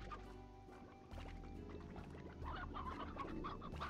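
Chickens in the video game Slime Rancher cluck repeatedly, short close clucks scattered over a low ambient game background that grows slightly louder midway.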